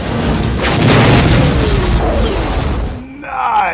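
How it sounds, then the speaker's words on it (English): A spaceship's self-destruct explosion in the 1987 film Spaceballs, a heavy booming roar that swells and slowly fades, ending in a short whooshing tail, with a voice talking over it. "Mel Brooks saved a lot of money for this explosion at the end."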